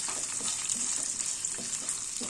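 Soaked, peeled peanuts and finely chopped coconut frying in hot oil, a continuous bright sizzle with soft occasional stirring scrapes, close and steady.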